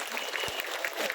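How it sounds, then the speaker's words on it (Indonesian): Brief applause from a gathering of women at a Muslimat community event, fairly faint and diffuse clapping with some murmur in the background. "tepuk tangan dulu dong"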